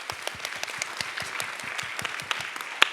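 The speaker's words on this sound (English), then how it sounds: "So let's give them all a round of applause." A conference audience at the close of a day of technical talks claps, with distinct individual hand claps audible in an uneven patter, moderately loud and close, with no speech over it.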